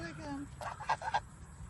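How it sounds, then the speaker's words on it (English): Geese approach with a handful of short, nasal honks in quick succession, moderately close, with a voice briefly audible at the start. "These geese will come up here and get in this on their own"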